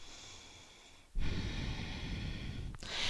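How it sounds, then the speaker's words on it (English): A long, forceful audible exhale during a chair yoga session, a close breathy rush starting after a quiet moment and running nearly three seconds, followed by a short sharp breath sound, no talk. "Big audible exhales."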